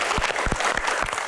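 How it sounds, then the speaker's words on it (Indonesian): Audience applause at a Q&A event with badminton player Taufik Hidayat, a short burst of crowd clapping with a few distinct hand claps punctuating the steady patter. "Tepuk tangan dong."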